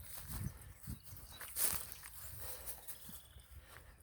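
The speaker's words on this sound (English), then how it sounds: "Look at that happy dog." A dog walks along a beach, its soft, irregular footfalls faint and close against a low, steady outdoor hiss.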